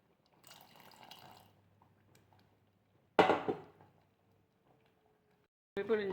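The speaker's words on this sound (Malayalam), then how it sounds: "പുളി പിഴിഞ്ഞത് ഒഴിക്കാം." Squeezed tamarind water is poured into a pot of sambar with lentils and vegetables, heard as brief splashing bursts between quieter stretches with faint kitchen noise.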